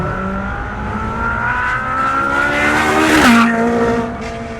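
A Ferrari 458 Speciale on a race track corners hard through Tower Bend in third gear, its tyres squealing in long rising tones over the engine's drone, the squeal peaking sharply before easing away.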